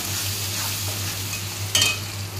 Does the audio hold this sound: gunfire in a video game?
no